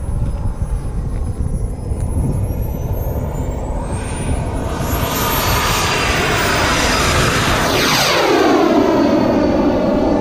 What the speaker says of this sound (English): Short field takeoff.